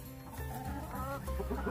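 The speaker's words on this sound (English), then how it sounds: "Yung chicken nila. Kuk, kuk, kuk, kuk." Chickens clucking on a farm, a close run of quick overlapping clucks and murmuring calls from several birds, fairly faint and with no talk.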